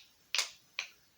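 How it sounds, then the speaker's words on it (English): Two crisp finger snaps, close and dry, about half a second apart with silence between them. "These are eighth notes that I'm snapping."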